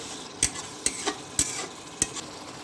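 Ground tomato going into chicken masala frying with fresh yogurt in a pan: four sharp stirring scrapes spaced about half a second apart over a steady sizzle, with no speech.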